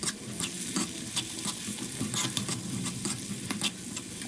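Three tomatoes go into a hot pan and fry with a steady sizzle while a utensil stirs and scrapes through them in repeated clinks and pushes, close and clear with no talking.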